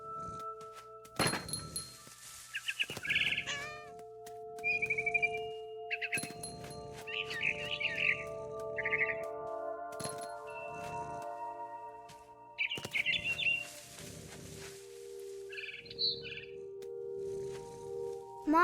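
Barn swallow chirps in What Remains of Edith Finch, short high twittering bursts scattered over a quiet game scene with soft thumps and a steady tonal hum.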